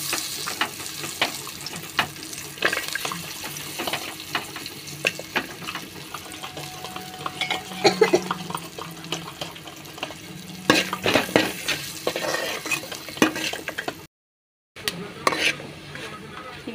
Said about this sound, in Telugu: ఇప్పుడు పచ్చిమిరపకాయలు వేసిన ఆయిల్లోనే కొబ్బరి ముక్కలు వేస్తానా.